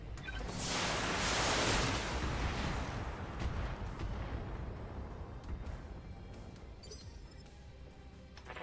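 Heavy weapons fire from a battle mech in the tactical game BattleTech, one big booming blast swelling up and then a long, rumbling fade with scattered impact crackles.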